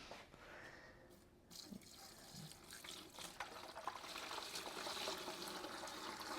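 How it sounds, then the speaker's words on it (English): Brine pours steadily over a turkey in a brining container, a continuous splashing, filling rush of liquid that grows fuller and louder as the pour goes on. "We're going to pour our brine right over the top."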